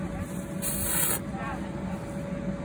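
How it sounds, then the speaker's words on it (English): Short hiss of a spray can being sprayed, a single burst of about half a second close by, with people talking in the background. "You just push down the top. Push down the top and then spray it at the."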